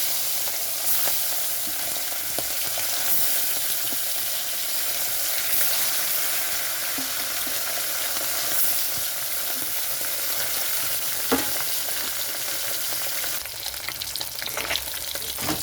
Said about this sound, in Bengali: কড়াইতে সর্ষের তেল গরম হয়ে গেছে, তো মাছটা ভাজার জন্য দিয়ে দিচ্ছি